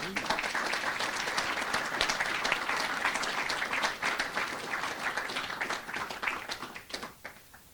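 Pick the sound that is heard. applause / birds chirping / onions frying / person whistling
applause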